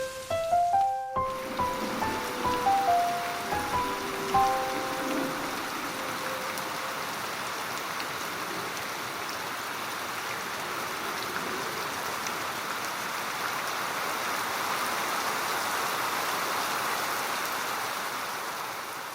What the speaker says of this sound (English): the rain's very strong